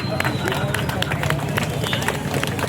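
An audience at a stage event honouring Pasumpon Muthuramalingam claps in a quick, irregular patter of many hands, fairly close and loud, mixed with crowd murmur and voices.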